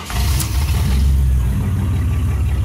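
A Chevy TBI engine from 1987 to 1993 runs loud and close during ignition timing, a steady low rumble with a brief rise in revs near the start.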